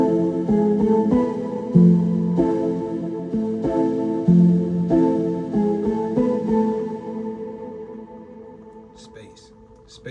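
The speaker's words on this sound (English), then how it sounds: "the keys are adding a more rhythmic part to kind of get the song moving a bit" A rhythmic keyboard part in a pop music production plays repeated chord stabs in a steady pulse for several seconds, then fades out toward the end.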